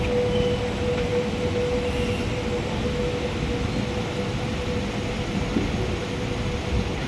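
A train at Kotdwar railway station before dawn gives a steady, dense rumble with a faint sustained tonal whine, continuous and fairly loud throughout with no voices.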